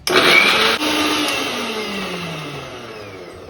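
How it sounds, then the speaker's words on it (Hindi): A kitchen mixer grinder blending cucumber for a face mask whirs loudly after a sudden start, its motor pitch gradually dropping as it runs steadily. "अब मैंने इसे मिक्सी में डाल दिया है एंड अब मैं इसे स्टार्ट करने वाली हूँ।"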